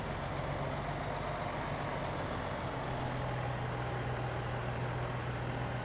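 A farm tractor engine runs steadily on a farm in Alma, Missouri, with a low, continuous idling rumble and a constant hum throughout. It is fairly close, and there is no talk.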